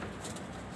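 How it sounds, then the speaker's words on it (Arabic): Pigeons cooing in a loft, a soft, low, continuous murmur heard close and faint across a brief stretch, with no talk over it. "ده حمام يا جماعه"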